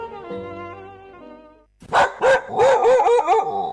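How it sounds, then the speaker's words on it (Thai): A dog barks in front of a house: after a short tonal musical jingle fades out, several loud, close barks and yips follow in quick irregular succession. "มีหมาที่ไหนก็ไม่รู้เห่าอยู่หน้าบ้านเรา"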